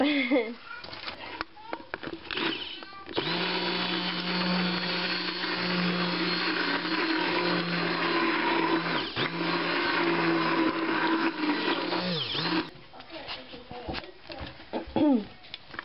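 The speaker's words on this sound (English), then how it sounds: "I washed and dried off my stick blender, and I'm going to blend it again" An electric stick blender whirs steadily through a shea and oat milk soap mixture for about ten seconds, starting and stopping abruptly, with brief clatter before and after.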